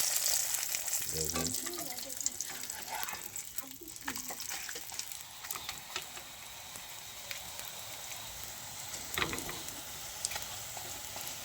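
Egg roll cooking in hot oil in a pan gives a steady, close crackling sizzle throughout, with a few louder spits as food hits the oil, while a person speaks over it.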